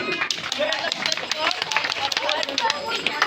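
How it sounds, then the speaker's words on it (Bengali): Audience at an outdoor school play in front of a primary school claps in a lively, uneven patter, with crowd chatter and voices mixed in throughout. "করতালি করতালি"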